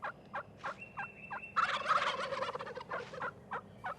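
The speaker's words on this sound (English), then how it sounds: "A gobble can be heard up to a mile away" A wild turkey gobbles once in a loud rattling burst, framed by several short separate calls before and after, all fairly close and clear against a quiet outdoor background.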